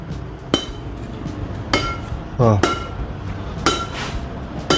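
Sharp, crisp badminton racket strikes on a shuttlecock sound about once a second, loud and close, with a short voice blip between hits.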